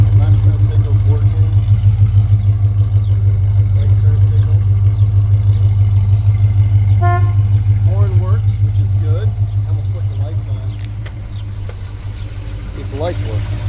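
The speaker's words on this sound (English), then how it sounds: "Listen to that exhaust in the back. Sounds real good." A 1970 Plymouth Duster idles with a deep, steady burbling exhaust rumble heard near the rear of the car, loud and continuous, with a person talking briefly over it.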